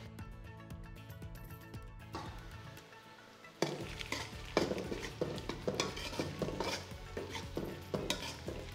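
Shallots and dried red chilies, about 20 seeded and torn, fry in oil in a pan for village-style chicken chinthamani while a ladle stirs them, giving steady close sizzling with repeated scraping strokes that grow louder midway.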